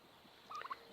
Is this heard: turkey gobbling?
yes